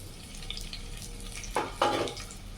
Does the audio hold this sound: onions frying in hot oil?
yes